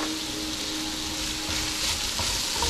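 Seasoning for Ecuadorian lentil rice sautéing in a pan with black pepper, cumin and cilantro, a steady close sizzle and crackle with light stirring and no talk.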